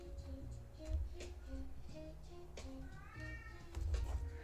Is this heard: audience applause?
no